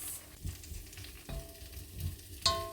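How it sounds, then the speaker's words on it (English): Onions and peppers stir-frying in olive oil in a wok with garlic, chili and ginger paste, a continuous close sizzle broken by several scraping stirs and clanks, no speech. "Add a little bit of olive oil. Add in our onions and our peppers."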